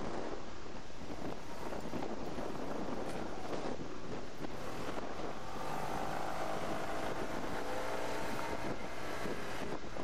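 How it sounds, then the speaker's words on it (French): Strong Mistral wind outdoors near Le Beausset and Bandol in southern France, buffeting the microphone in a loud, continuous rumbling roar with gusty surges and a faint engine-like drone partway through. "Aujourd'hui il y a beaucoup de vent, beaucoup de Mistral"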